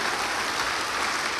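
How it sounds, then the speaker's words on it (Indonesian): A church congregation claps together in a big hall, a dense, steady wash of applause that is loud and sustained throughout the short stretch, with no talk over it. "Let's give another clap offering to the Lord."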